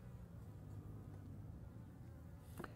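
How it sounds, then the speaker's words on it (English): Honeybees crawl over a comb frame lifted from a new colony's hive, giving a soft, continuous low buzz with a faint hum throughout and one brief, louder wing flick near the end. "this is the first frame now that actually has bees on it"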